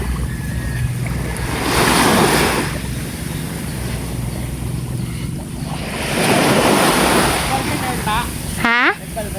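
Waves surge onto the shore in two broad swells, rising and falling with wind noise between, and a brief voice near the end.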